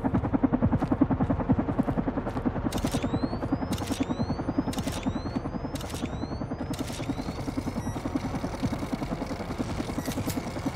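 Helicopter in the horror video game Carrion, a steady droning rotor rumble that runs throughout, with rising whistling sweeps and short bright bursts layered over it.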